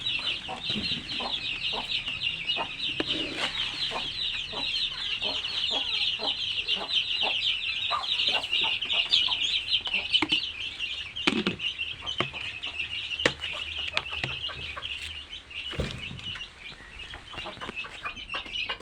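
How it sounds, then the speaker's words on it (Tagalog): Backyard chickens of a good size clucking steadily throughout at close range, with occasional louder squawks and scattered clicks and scuffs, no talking over it. "Ayan na pala yung mga manok guys oh"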